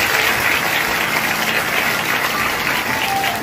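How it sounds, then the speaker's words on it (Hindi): A church congregation claps during a Hindi sermon, a dense, steady wash of applause from a crowd that holds evenly loud for the whole stretch, with no voice over it. "एक बार ताली प्रभु को"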